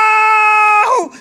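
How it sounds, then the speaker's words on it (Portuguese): A single loud scream holds one sustained high pitch for most of a second, then breaks and wavers downward before cutting off. "Você me acordou com seu grito."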